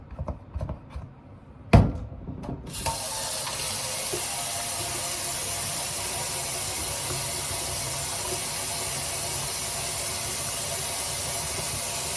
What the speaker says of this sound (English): I have some antibacterial soap and I'm gonna wash my hands